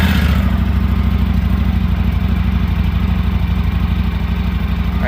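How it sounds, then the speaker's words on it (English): A 2025 Indian Scout Bobber motorcycle engine fires up and settles into a steady, loud, close idle with an even low throb throughout, no one talking. "Let's go ahead and fire this up."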